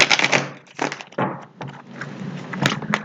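Oracle cards being shuffled by hand, a run of dense papery riffles and slaps with short pauses between bursts, close and fairly loud with no talk over it.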